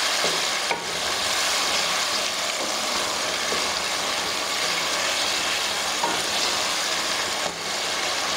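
Tomato fries in hot ghee with browned onion and mustard seeds for a ridge gourd sabzi, making a loud, continuous close sizzle broken by a few brief stirring scrapes.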